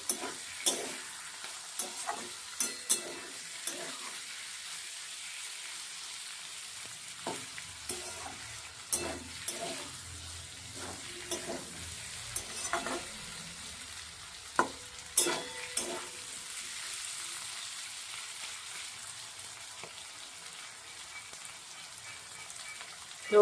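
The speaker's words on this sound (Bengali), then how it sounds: "এবার গ্যাসটাকে বাড়িয়ে নেব, বাড়িয়ে নিয়ে একদম ভাজা ভাজা করে নেব।" Fish fat with potato and eggplant sizzles softly in a pan of a little oil, with scattered scrapes and taps of stirring over a steady quiet frying hiss, no voices.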